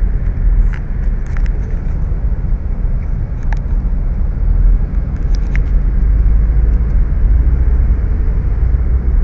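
Steady car traffic on a Saudi Arabian road near exit 20, a continuous broadband roar of passing vehicles with a deep rumble underneath, even and fairly loud throughout, with no talking.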